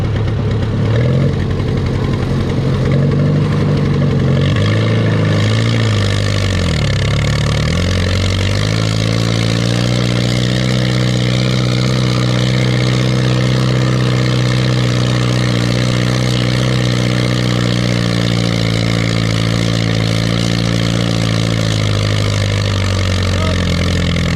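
Pulling tractor engine revs in second gear at a fall tractor pull in Lynden, a loud, continuous low roar that dips and shifts pitch early, then settles into a steady, heavy drone.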